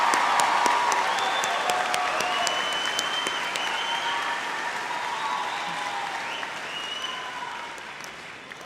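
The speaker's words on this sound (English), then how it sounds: "Let's give a round of applause to the graduates." Sustained loud applause from a high school commencement crowd honouring graduates, dense steady clapping that slowly tapers, with faint cheers and a few voices underneath.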